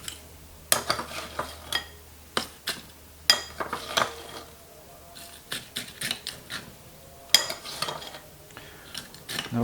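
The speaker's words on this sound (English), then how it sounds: "And put in some crushed ice." Crushed ice dropped into an iced tomato drink: a run of irregular clinks and crisp rattles, some sharp and close, spaced unevenly against a quiet background.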